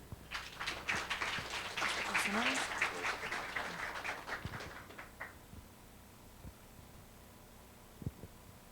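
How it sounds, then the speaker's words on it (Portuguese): Applause from a conference audience, a few seconds of full clapping that thins out and fades to scattered claps and near silence. "Salva de palmas, por favor."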